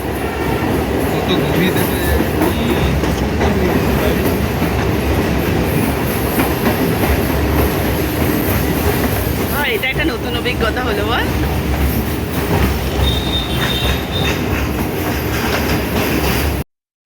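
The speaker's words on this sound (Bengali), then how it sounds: "পুরো গঙ্গার ধার দিয়ে ট্রেনটা যাচ্ছে" A passenger train runs along the bank of the Ganges, its steady rumble and rhythmic wheel clatter continuous and close throughout, with people talking over it.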